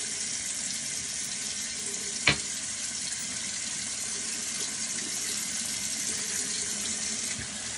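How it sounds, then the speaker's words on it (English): Tap water runs continuously into a sink as hands are rinsed clean of exfoliant, a steady close hiss with one brief knock partway through and no speech. "And then I'm going to wash my hands off just so that they're free of the exfoliant."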